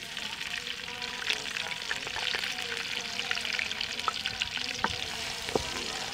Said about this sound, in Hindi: घी हमारा गर्म हो गया, अब हम डाल देंगे प्याज इसमें।